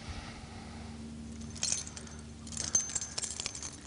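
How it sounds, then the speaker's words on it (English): A set of keys jangles and clinks briefly as parts are taken off the key ring, close and moderately loud over a low background hum. "I'm taking my more sensitive parts off my keys here."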